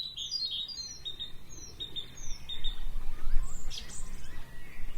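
Several small birds chirp and tweet in springtime, their high calls repeating irregularly over steady low background noise, moderately close and with no voices.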